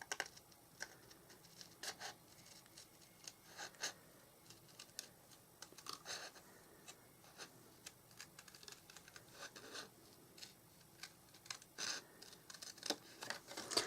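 Scissors snip steadily through stamped cardstock, a quiet run of small crisp cuts and paper rustles at close range with no voices.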